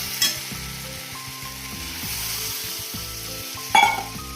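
Sautéed spices sizzle steadily in a pan for a thin fish curry, with a sharp louder burst near the end as water is poured in.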